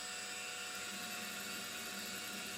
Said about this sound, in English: I'm drilling with the final nominal size